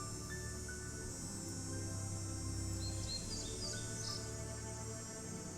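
Bird song in the Nancy Drew game Ghost Dogs of Moon Lake: faint, scattered high chirps and short tweets over a steady outdoor ambient bed with low hum, no talking.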